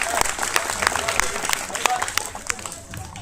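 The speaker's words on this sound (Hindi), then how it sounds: "इनकी मेहनत के लिए आप एक बार तालियां हो" A crowd of children and adults at a school quiz competition claps in a scattered, uneven burst, close and moderately loud, with voices talking over the applause.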